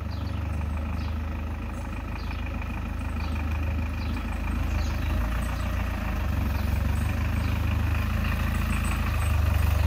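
A homemade quad bike's engine runs steadily while driving, a loud continuous low rumble with an even drone throughout and no speech.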